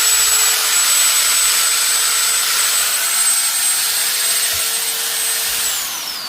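A Pilot 1800-watt angle grinder runs at full speed, giving a loud, constant high-pitched whine with a steady tone, close and unbroken, slightly easing near the end.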